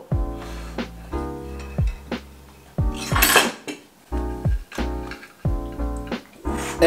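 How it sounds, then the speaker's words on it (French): A portion of cheesy tartiflette is cut and served, with repeated clinks and scrapes of cutlery against dishes in bursts over a steady musical background. "On va découper un bon petit quart."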